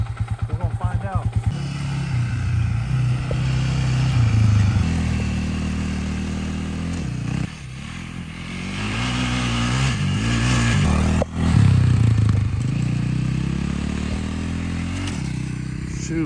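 A Polaris Predator 500 ATV engine revs up and accelerates toward top speed, a loud, close, buzzing drone that climbs in pitch. It dips briefly at gear changes, then surges again.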